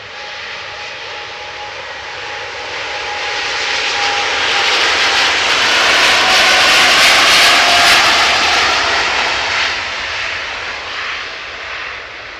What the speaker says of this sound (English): And another Dreamliner